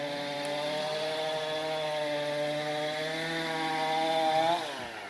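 A chainsaw cuts through a massive fallen tree with a sustained buzzing whine at moderate distance, then its pitch sags near the end as the cut finishes; no talking.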